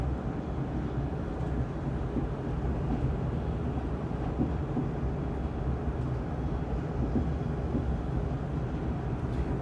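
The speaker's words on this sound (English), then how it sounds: "travel nearly 300 kilometers per hour on a train" Steady low rumble and rush inside a French high-speed train running at nearly 300 km/h between Paris and Cologne, a constant dense roar with faint clicks and no talking.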